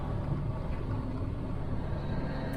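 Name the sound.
Peterbilt 359 semi truck engine picking up throttle on cruise control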